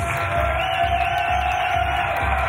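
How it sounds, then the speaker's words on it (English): An audience at a charity dance competition claps and cheers, the crowd noise sustained and fairly loud, with whoops rising over steady applause throughout. "A massive round of applause"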